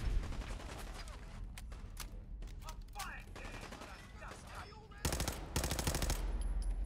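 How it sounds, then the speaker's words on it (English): Automatic gunfire in a wasteland video game rattles in quick bursts, sparse at first then a loud sustained volley near the end, with a voice faintly present. "Nice shooting, Tex."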